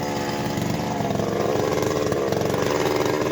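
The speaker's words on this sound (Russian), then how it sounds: "Бензопила выручает." A chainsaw runs at steady high revs, cutting through river ice in minus 40 cold, a loud, continuous buzzing engine whine heard close and alone.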